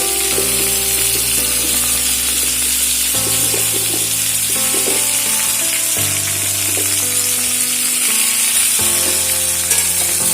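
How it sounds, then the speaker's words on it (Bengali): Flat beans and eggplant fry with other vegetables in a pan, a loud, steady hiss and crackle lasting throughout, with sustained background music tones underneath. "আবারও এগুলোকে একটু ভাজা হতে দেব।"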